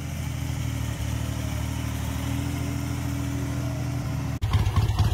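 A Royal Enfield Interceptor 2, a 1970s British motorcycle, runs with a steady, even engine throb that continues for several seconds, then turns abruptly louder and rougher near the end.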